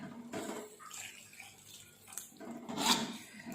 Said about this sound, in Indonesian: Ini kita kasih air bersih secukupnya ya teman-teman.